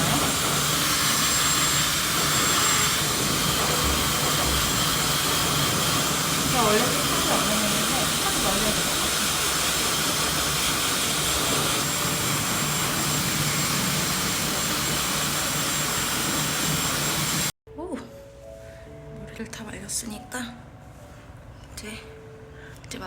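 A Dyson hair dryer blows a loud, steady rushing hiss over thick hair for most of the stretch, then cuts off abruptly, leaving quieter room sound with someone speaking.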